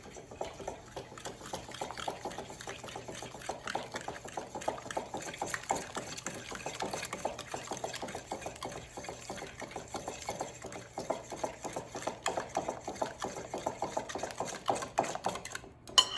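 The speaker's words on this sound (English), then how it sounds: "let's mix it until combined" Matcha cookie dough is mixed after an egg is added, making a faint, steady scraping and stirring patter that runs continuously and close by, with no voices.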